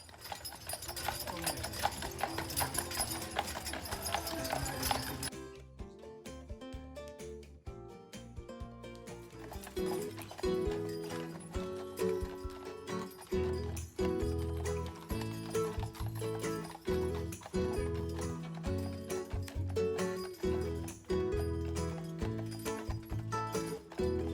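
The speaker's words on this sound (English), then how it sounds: "Horse taxis aren't always on time or convenient, but once we got on, the kids were happy again." Hooves of a horse-drawn taxi on Mackinac Island clip-clop in a steady rhythm on pavement, with music playing loudly alongside; the clopping continues throughout.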